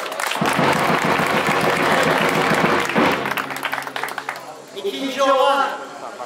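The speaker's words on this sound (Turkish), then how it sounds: "Ona kocaman bir alkış alalım." Audience applause at a sheep shearing festival in Beytüşşebap, a sustained crowd clapping that fills the first few seconds, then thins as a voice speaks over it, with bleating sheep audible near the end.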